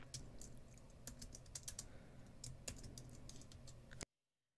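Steady typing on a computer keyboard while writing a bash shell function, a run of close, crisp key clicks with a few louder keystrokes, stopping abruptly near the end.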